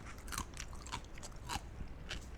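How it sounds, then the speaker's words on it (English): Crunchy bites into a Jimmy John's Club Tuna sandwich, several crisp crunches spaced across the moment, close and fairly quiet with no talking. "it still has a big crunch to it"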